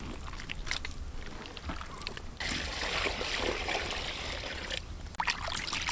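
Cut beef for a Kerala-style beef roast is rinsed under running water, a steady near splashing and trickling that holds for several seconds with brief dips and no talk.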